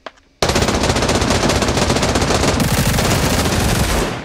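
Sustained machine gun fire in the shooter game Badlanders: a loud, dense stream of rapid shots starting abruptly after a brief quiet moment and continuing nearly four seconds before easing off.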